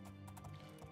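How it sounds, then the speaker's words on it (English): Horse hooves clip-clopping in the video game Oblivion, a short, quiet run of rhythmic hoof beats over a low steady background. "The horse is coming out!"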